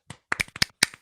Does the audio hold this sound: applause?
yes